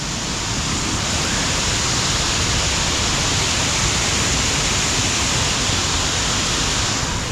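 A small waterfall in Shropshire pours steadily, heard as a loud, unbroken broadband roar of rushing water close by, with no voices.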